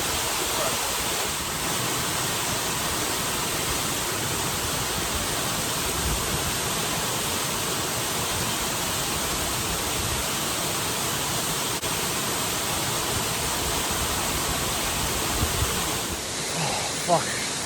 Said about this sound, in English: This is one of the most beautiful waterfalls I've seen.